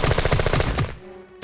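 An M249 machine gun fires in the video game Jagged Alliance 2: a single loud rapid burst of shots lasting under a second, then a brief fading tail.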